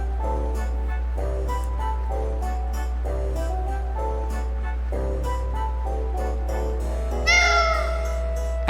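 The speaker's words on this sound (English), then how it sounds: "That's a loud cat." A loud cat meows in the Tales of Vesperia video game, one rising, drawn-out cry near the end over steady background music with a deep constant hum.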